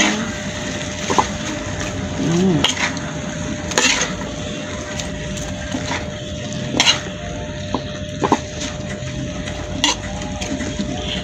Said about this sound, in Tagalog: Tapos haluin na natin yung tinadtara na natin na repolyo.